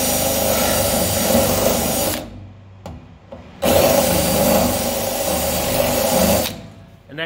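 A drill fitted with an old bit flattened and ground flush scours out spot welds on a rusty car rocker panel, whirring in two long, steady runs broken by a short pause and a brief burst.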